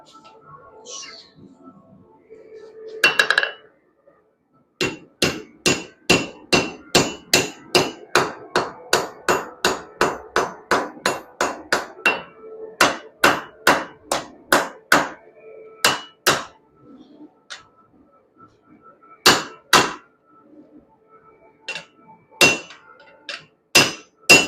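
Hammer strikes ring on a forged Viking sword blade being straightened, dozens of sharp metallic blows in quick rhythmic runs with short pauses, starting after a few scattered knocks and ending in spaced single hits.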